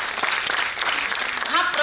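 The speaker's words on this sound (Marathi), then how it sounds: "तर एकदा जोरदार टाळ्या गणेश शिंदे यांच्यासाठी" An audience at an education lecture gives a speaker a round of applause, a steady wash of clapping throughout, with a voice coming in near the end.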